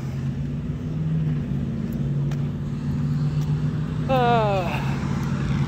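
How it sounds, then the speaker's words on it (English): Traffic rushing by on a busy six-lane road, heard from between lanes: a constant loud roar of passing vehicles, with one engine climbing sharply in pitch near the end. "I'm gonna be in between 2 lanes of traffic, so it might get a little loud."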